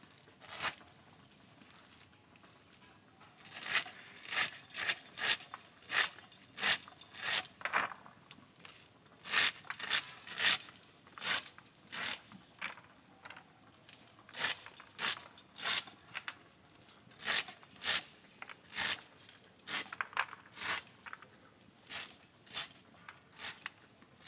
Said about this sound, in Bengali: এই শাক কটাও কেটে নেব এইভাবে।